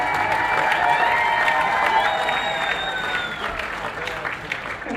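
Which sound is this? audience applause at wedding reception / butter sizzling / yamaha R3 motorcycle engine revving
audience applause at wedding reception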